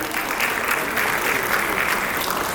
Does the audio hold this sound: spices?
no